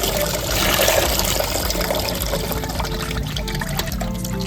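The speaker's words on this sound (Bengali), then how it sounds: "কাতলা মাছ ভালো করে ধুয়ে নিচ্ছি।" Tap water pours and splashes steadily while fresh katla fish is washed by hand in a kitchen, a continuous close running-water sound with small splashes and clatter.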